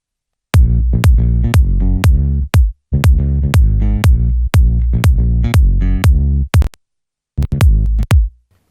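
Isolated bass section from a dance track pumps out loud, punchy low notes in a steady rhythmic pattern with brief gaps and a short dropout near the end, alone without voices.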